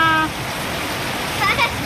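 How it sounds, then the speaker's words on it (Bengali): Heavy rain keeps falling at night, a dense, steady roar of downpour close by with no break, briefly joined by a faint voice near the start and again near the end. "এখনো বৃষ্টি ছাড়ছে না।"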